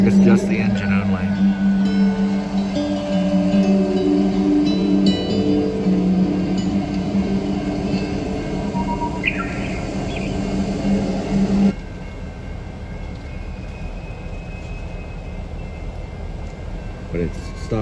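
A lone train locomotive without any cars rolls past with a steady low rumble and mechanical drone. The sound is fairly loud and continuous, then drops to a quieter background hum partway through.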